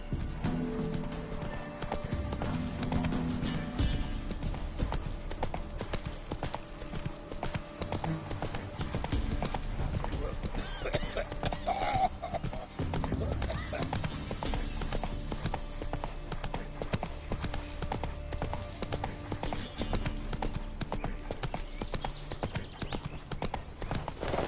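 Roach the horse gallops in The Witcher 3, with a steady, loud rhythm of clip-clopping hooves throughout, occasional neighing and a dense game soundscape beneath.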